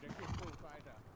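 A horse whinnies in a video game, a short, fairly quiet neigh with a wavering pitch that fades out toward the end.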